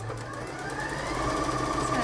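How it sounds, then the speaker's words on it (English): A sewing machine stitches a seam in scuba fabric, giving a steady, close mechanical whirr with a rapid rhythmic needle patter and a low hum that rises slightly in speed, with no one talking. "going to stitch a quick seam"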